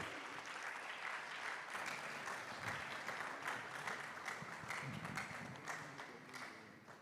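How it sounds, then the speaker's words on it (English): An audience at the official launch of a university sports games event gives a sustained round of applause, dense and even, tapering slightly toward the end, with no talk over it. "A round of applause for him."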